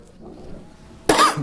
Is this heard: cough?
yes